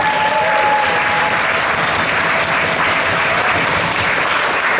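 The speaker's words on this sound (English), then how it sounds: "Can we have a round of applause for the ladies" Wedding guests give a loud, sustained round of applause for the bridesmaids and bride, dense clapping filling the room steadily from start to finish.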